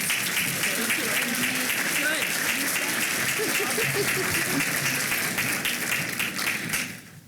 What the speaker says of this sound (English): One more round of applause for Dr.